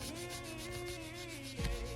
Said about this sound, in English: Then we're gonna sand it down with 60 grit sandpaper.